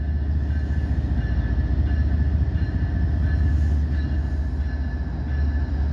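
Northbound CSX I140 intermodal freight train starting to roll after getting a signal, a loud continuous low rumble with a steady rolling rhythm of wheels and cars, heard nearby without talking.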